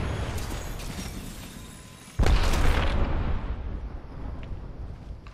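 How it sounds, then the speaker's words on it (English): A grenade blast in a multiplayer shooter game, one sudden deep boom that breaks through steady background noise and rumbles away over a few seconds, loud and close. "Oh, they threw a grenade."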